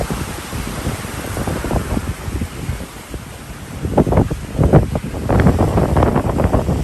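Strong wind roars steadily over a sailboat running dead downwind at sea under jib and genoa, with gusty buffeting that swells louder toward the end and a constant rushing of water beneath, no voices.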